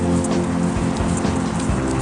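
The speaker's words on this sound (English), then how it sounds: "the rain's currently light" Light rain falls steadily on the outskirts of Buckhurst Hill, a continuous soft hiss of drops on surfaces, close and even throughout with no voices.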